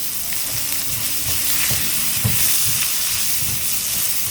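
Curry leaves crackle in hot oil with green chilli, ginger and asafoetida for a tempering, a steady dense sizzle with brief popping bursts throughout, close and fairly loud with no voices.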